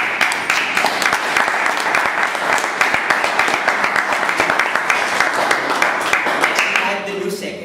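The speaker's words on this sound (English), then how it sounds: "Could you please give Cherian a big round of applause?" A big round of applause at a Toastmasters club meeting, many hands clapping loudly and continuously for several seconds before tapering off at the end.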